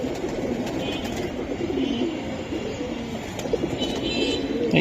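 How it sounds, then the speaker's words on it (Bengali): Pigeons, including Silver Giribaz and similar fancy breeds kept for sale, coo softly in repeated low calls amid a steady background rumble. "খুবই সুন্দর কবুতর"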